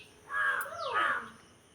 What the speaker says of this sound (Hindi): कौवा बोल रहा है तो ये डर रहा है।